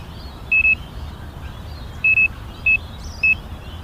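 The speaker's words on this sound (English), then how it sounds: "baits are in, bite alarms are on" Fishing bite alarms at a reservoir give short, high electronic beeps, two quick pairs followed by two single chirps, fairly close and clear over a steady low outdoor rumble, with no talking.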